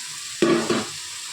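Fried chicken pieces tipped into a cooked spice masala burst into a sudden loud sizzle, followed by a second surge as they are stirred, then fade to quiet.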